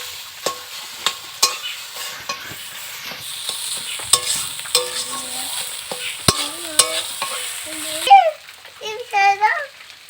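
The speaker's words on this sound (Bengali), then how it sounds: "সিদ্ধ করা আলুটাকেও দিয়ে দেবো। এটাকে খুব ভালো করে মিশিয়ে নিচ্ছি।" Boiled potato is stirred into a frying pan with a spatula, giving scraping knocks over a soft sizzle, with a voice chattering briefly near the end.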